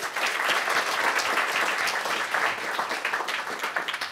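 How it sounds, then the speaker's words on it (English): An audience gives a short round of applause after the announcement of the mentors at an RSI science research presentation, the clapping steady and dense throughout without pause. "let's have a short round of applause for them, too"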